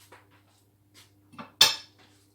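A clean mixer paddle set down in a kitchen sink gives a few soft clinks, then one sharp metallic clatter that rings briefly and fades, close and alone.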